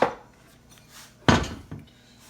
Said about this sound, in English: let me get me a bowl here